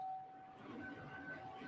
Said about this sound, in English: There is a siren that I mentioned earlier.